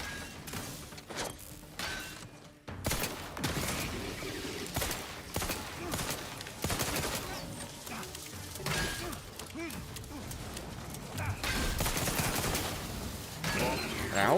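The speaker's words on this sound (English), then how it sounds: "We can use the shot grenade, though." Dense gunfire and a shot grenade blast in the video game The Outer Worlds 2, with rapid bursts, sharp cracks and clattering impacts packed together in a loud, continuous firefight.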